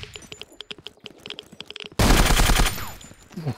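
A loud, close burst of automatic gunfire in the video game Zero Sievert rips out for under a second after a stretch of light clicking and tapping, then fades into quieter noise with no talk.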